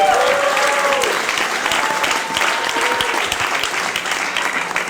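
A comedy club audience at Gotham claps and cheers for a stand-up comedian being introduced, with sustained, dense applause that stays loud throughout.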